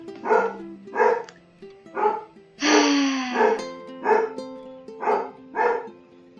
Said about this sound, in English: Dogs are barking again.